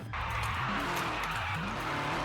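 A tuned Dodge Challenger sliding on a track without brakes, its engine droning and tires scrubbing in a continuous loud skid that holds for the whole stretch, with no talking over it.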